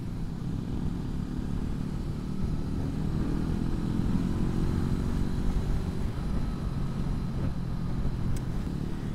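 A Brixton Crossfire 500 motorcycle engine hums steadily while riding, a low droning rumble with a brief rising whine of revs midway, heard close and continuous.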